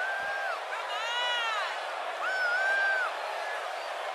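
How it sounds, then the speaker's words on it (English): Wrestling arena crowd cheering at a championship match, a steady roar of many voices with rising whoops and whistle-like shouts cutting through in two bursts. "it sounds to me like this crowd already picked the one who they want to win this match"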